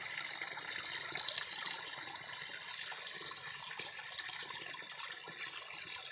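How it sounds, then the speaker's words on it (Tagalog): A small stream flows steadily nearby, a quiet, continuous trickling rush of water with no pauses and no voices. "batis."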